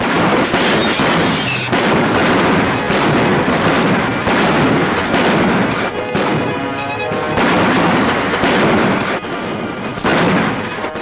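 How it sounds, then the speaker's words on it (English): Gunshots in a 1952 western film ring out as loud, repeated booming blasts in quick succession, with echoing reports layered almost continuously. "Pretty good shooting, May"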